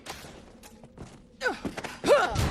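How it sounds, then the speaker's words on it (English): Giant spider in Dragon's Dogma: Dark Arisen spitting at the player, heard as a few wet, hissing bursts with falling sweeps, fairly close and growing louder toward the end, with no talk. "I think I hear another one spitting at me from somewhere."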